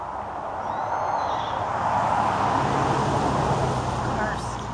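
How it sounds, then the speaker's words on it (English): Several cars pass along a rural country road, a broad steady rush of tyre and engine noise that swells and fades slightly over nearly five seconds, moderately close and continuous. "All of a sudden, we have a lot of cars on this country road that we live by."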